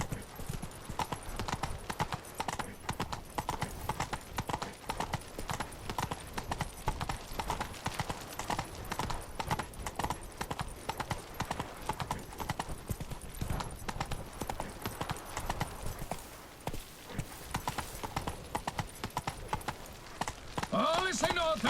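Horse hooves clip-clop steadily and continuously throughout, a mounted horse trotting in The Witcher 3: Blood and Wine video game, with a voice speaking over the hoofbeats.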